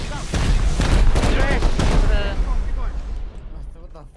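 Rapid bursts of gunfire and explosions from an online Rust match rattle loudly throughout, with players talking excitedly over the shooting.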